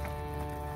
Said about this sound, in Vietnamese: Mưa dữ vậy